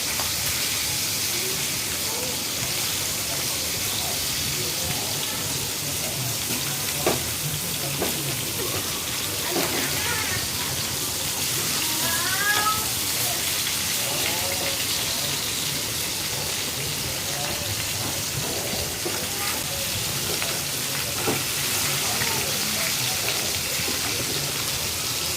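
Pieces of rohu fish frying in oil in a pan, a dense continuous sizzle and crackle that holds steady and close throughout with occasional small pops.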